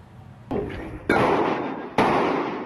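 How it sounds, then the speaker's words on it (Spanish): Three sharp, loud rifle shots from a police raid on a rural country house, evenly spaced about a second apart, each a sudden broadband crack with a short decaying tail and no voices over them. "Con tiros de fusil, alias El Ecuatoriano recibió a los comandos de la policía"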